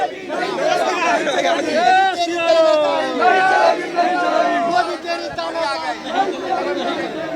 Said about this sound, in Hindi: ये जो राजीव चौक पर एक भीड़ को रोक रखा गया था प्रशासन के द्वारा